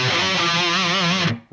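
Heavily distorted electric guitar plays a short riff phrase, with sustained, wavering notes ringing out loud and alone before cutting off abruptly.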